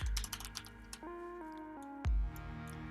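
Computer keyboard typing, a quick run of close, crisp key clicks, then a pause and a single heavier keystroke, heard alone over faint background music.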